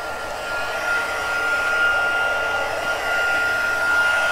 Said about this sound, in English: Bring in the heat tool.